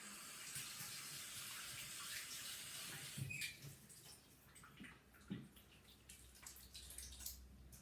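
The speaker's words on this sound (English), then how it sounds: "Excuse me a second while I wash my hands." Hands are washed under a running kitchen tap while preparing lamb kofta wraps, a soft continuous stream of water with splashes and faint knocks as the hands move beneath it.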